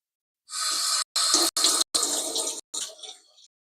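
A kitchen tap gushes water over a cream-covered item being rinsed. The flow is steady and close, broken by several brief cutoffs, then fades to a trickle.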